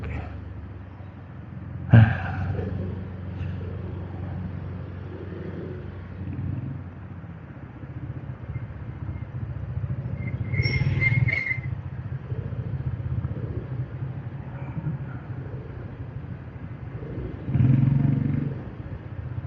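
Road traffic on a Philippine route between Cavite and San Pedro, Laguna: a steady engine rumble with motorcycles and cars passing nearby, louder swells near the start and the end, and some clattering.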